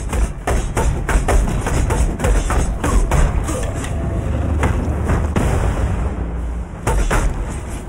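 Explosions in Path of Exile, a dense, loud stream of rapid thumps and booming bursts layered over heavy rumbling combat noise, repeating irregularly throughout.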